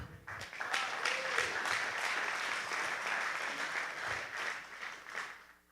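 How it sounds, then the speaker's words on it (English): Applause for a boxer at a live boxing event in San Antonio, a moderately distant crowd clapping steadily for several seconds before tapering off at the end. "give a quick round of applause to Isaac Bermea."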